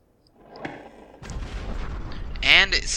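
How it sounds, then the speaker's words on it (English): A deep rumbling blast in the video game Obduction builds and swells, followed by a sharp, louder burst near the end, with crackling debris noise. "And it's suddenly explosion."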